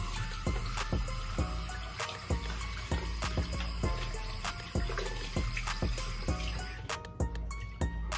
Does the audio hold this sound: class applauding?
no